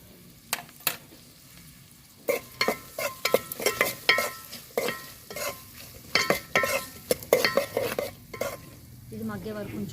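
Coconut masala and small brinjals fry in a pan while a utensil scrapes and stirs in repeated sharp strokes over a soft, steady sizzle, heard up close with no talking.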